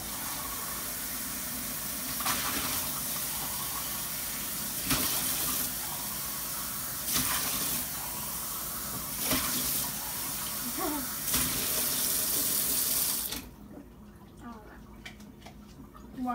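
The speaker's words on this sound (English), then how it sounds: "Let me wash this cup out" Tap water runs steadily into a sink while a cup is rinsed, a loud rushing stream broken by splashy surges before it cuts off near the end, leaving quieter drips and handling sounds.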